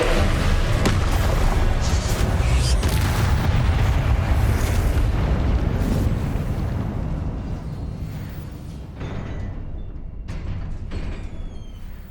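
Spell explosions crash through Hogwarts Legacy video game combat, a dense, continuous roar of booming blasts and bursts that stays loud for most of the stretch and eases slightly toward the end.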